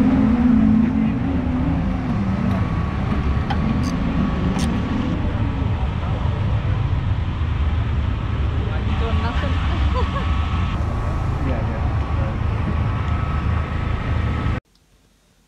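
A midget speedcar engine roars steadily through a racing heat in Australia, a loud continuous drone with shifting pitch that cuts off abruptly at the end.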